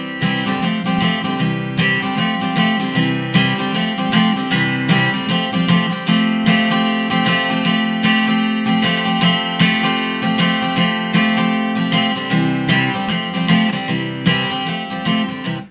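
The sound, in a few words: acoustic guitar playing verses of a song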